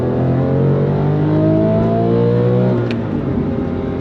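A 2004 Porsche 911 GT3 with its high-revving 3.6-liter flat-six, revved hard under throttle: loud, steady engine howl with rising harmonic tones for nearly three seconds, then easing slightly as the pitch drops.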